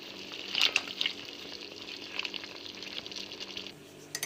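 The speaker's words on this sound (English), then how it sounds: "Just stir it a bit." A spoon stirs brown sauce in a cooking pot, giving a few soft clinks and scrapes over a faint, steady sizzle. The sound is quiet and close, with no voices.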